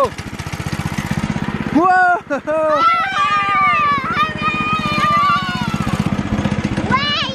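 A go-kart engine sputters with the choke on, catches and runs with a loud rapid putter that stays steady, while a voice exclaims over it.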